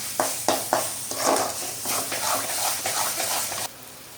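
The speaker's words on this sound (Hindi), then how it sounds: "इसे हम कम से कम 5 मिनट 7 मिनट तक मीडियम फ्लेम पे फ्राई करेंगे।" Masala spices frying in oil in a pan over a medium flame for a Bihari-style fish dish, a steady close sizzle broken by a few sharp stirring scrapes before cutting off, with no talking.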